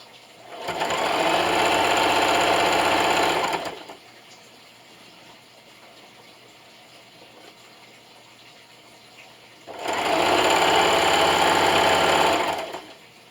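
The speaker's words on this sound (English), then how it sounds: "And then just keep sewing all the way around with that 1/2 inch seam allowance until I get to my final pin" Sewing machine stitching around the edge of a quilt with a 1/2 inch seam, two loud steady runs of a few seconds each separated by a long quiet pause.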